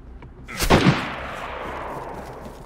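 A single gunshot in the video game DayZ, a sharp loud crack followed by a long fading echo that rolls off over about two seconds, with faint softer sounds just before.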